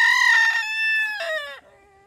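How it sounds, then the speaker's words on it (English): Sam the rooster gives a single loud, close crow lasting about two seconds, a strained rising call that breaks into a falling tail. "Sam the rooster."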